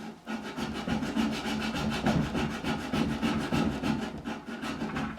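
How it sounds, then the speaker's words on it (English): A fine saw cuts a fret slot in the neck of a 1957 Hofner President guitar being refretted, with steady, rapid back-and-forth strokes, close and even, running continuously with no talk. "Be very, very careful, because I don't want to be sawing into the wood of the neck."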